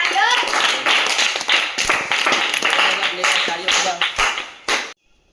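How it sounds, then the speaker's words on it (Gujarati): A group claps to cheer the winner of a village challenge to lift two bricks with one hand. Sharp, uneven claps come in quick bursts with voices mixed in, thinning out and stopping abruptly near the end. "તાળીઓ બજા તાળીઓ"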